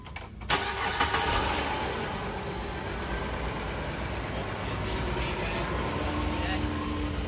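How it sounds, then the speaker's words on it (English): A 2010 Dodge Journey V6 cranks after a brief pause and catches, then idles steadily and loudly close by, with a person speaking over the engine. "I'm going to start the car, make sure the alternator is actually good, and do the battery test"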